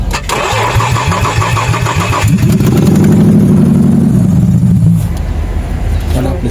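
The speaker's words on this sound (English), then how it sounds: "So now you hear the car starts." A Nissan Xterra engine cranks with rapid starter chugging, catches and revs up, then settles into a steady idle, loud and close in a repair setting after an ignition coil and spark fault were addressed.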